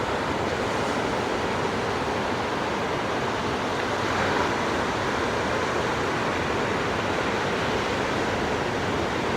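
Ocean surf rolling onto a French surfing beach in late October, a continuous dense wash of breaking waves with steady wind noise, loud and unbroken, no voices.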